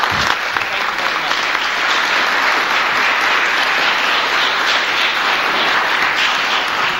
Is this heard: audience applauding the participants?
yes